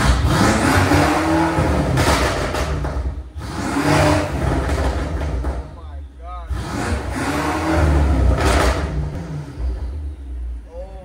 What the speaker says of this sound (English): So you can hear the intake sound.